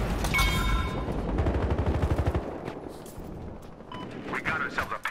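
Rapid automatic gunfire from the video game Battlefield Hardline, a loud fast-repeating burst for about two seconds, then scattered shots and game sounds with a voice talking through it.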